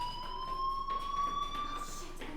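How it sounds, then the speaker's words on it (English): Fire alarm in the video game Life is Strange, a steady high-pitched electronic tone sounding continuously, loud and unbroken, with a faint second tone layered above it. "do you hear that fire alarm? That means you should be outside"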